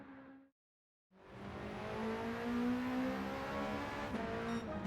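A 2017 Alpine A110 Première Édition in Gran Turismo 7 drones at steady revs, its engine note rising and holding strong after a brief silent gap, with a faint tire squeal and no talk.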